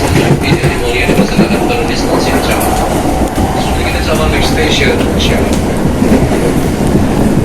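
Jakarta commuter train running along rails between South and Central Jakarta, with a steady loud rumble and rattle of the carriages continuing throughout, and faint speech under the running noise.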